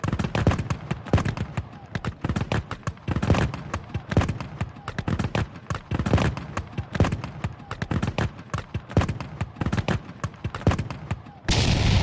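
Musket gunfire in a wargame battle scene, a dense ragged volley of sharp cracks and bangs firing in rapid irregular succession, loud and continuous throughout.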